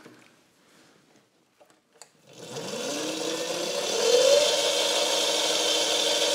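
An electric scooter converted to LiPo batteries has its motor switched on after a few faint clicks. It whines up in rising pitch, then holds a loud, steady electric hum close by.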